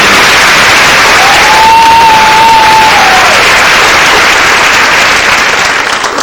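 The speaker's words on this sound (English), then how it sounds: "Big round of applause for last year's" Loud, steady applause from a pageant audience, dense clapping filling the room with a brief whistle or cheer rising above it midway.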